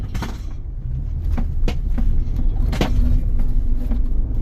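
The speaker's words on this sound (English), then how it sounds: "Gonna test out cornering on the Nokian tires." Inside a Ford Bronco cornering on Nokian winter tires: a steady, close low road-and-engine rumble fills the cabin, broken by a few sharp knocks and clunks.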